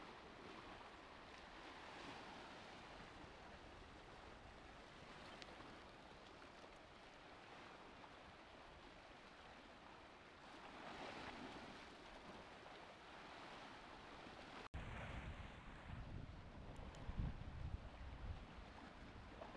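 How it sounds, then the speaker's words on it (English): Waves and wind roll steadily against a rocky shore, a constant rushing wash with wind buffeting the microphone, surging slightly louder in places and ending with a sharp knock and rougher splashing. "The waves and wind are annoying."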